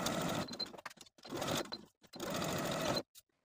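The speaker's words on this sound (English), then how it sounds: "Now go to your sewing machine and sew the side and top edges" A sewing machine stitching fabric runs in three bursts of rapid stitching, each lasting about a second, separated by brief pauses, fairly close and steady.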